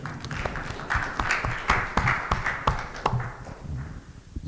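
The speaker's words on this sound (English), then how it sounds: "I think we should all give them a big round of applause" Audience applause after a philanthropy talk in India, a steady patter of many hands clapping at moderate level, with sharper individual claps standing out and the sound thinning toward the end.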